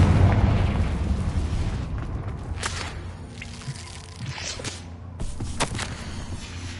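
A Confringo fire spell in Hogwarts Legacy goes off amid loud booming game effects, with a rumbling low roar and a few sharp cracks and whooshes, no voices.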